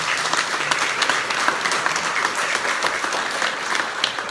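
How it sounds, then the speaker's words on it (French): Audience applauding steadily at a Yom Kippur community gathering, a dense continuous patter of clapping hands sustained throughout at moderate loudness with no talk over it. "Il faut l'applaudir"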